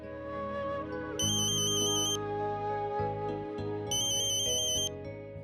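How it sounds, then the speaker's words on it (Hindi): A mobile phone ringtone plays in two electronic bursts over steady background music, the tinkling melody sounding close and clear with no talking. "आई का फोन।"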